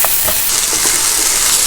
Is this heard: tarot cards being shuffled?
no